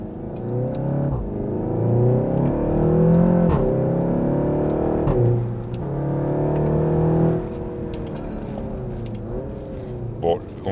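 A 300 hp car with a 6-speed DSG gearbox accelerates, its engine note rising and dropping through quick gear changes, heard from inside the cabin with talking over it.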